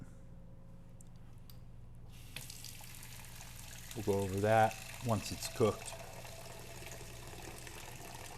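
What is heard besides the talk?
water poured into cooking pot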